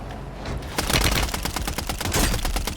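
Rapid sustained bursts of MTZ-762 rifle fire in Call of Duty Warzone, loud and close, with sharp repeating cracks after a brief quieter lead-in.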